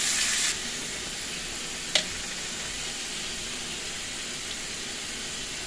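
Mango pieces sizzle in mustard oil with dried red chillies and panch phoron for pickle, a loud steady hiss with a brief harsher burst at the start and a single sharp knock, close and continuous without talk.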